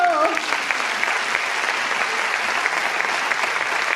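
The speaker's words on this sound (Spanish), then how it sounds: "¡Fuerte aplauso!" A gala audience applauds a singer as she comes on stage, a dense, steady roar of clapping hands after a brief voice at the start, holding strong to the end.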